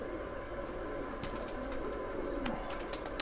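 An aged Missay Rakh pigeon coos softly and repeatedly, low and fairly faint, over a steady background hiss with a few brief clicks.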